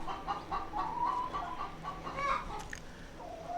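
Chickens cluck and murmur close by at Cedar Woods Farm, a run of soft, repeated clucks and brief squawks over a quiet outdoor background.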